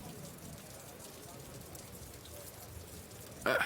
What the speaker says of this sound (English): you can hear like the sounds of the rain pattering against the roof and whatnot.